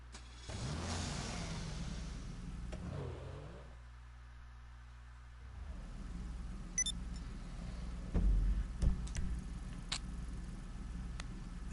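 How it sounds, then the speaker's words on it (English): A Porsche drives in GTA 5 Online, its engine revving up, easing to a low idle, then accelerating again with a mid-pitched, fairly quiet tone. "I'll drive the Porsche back to town."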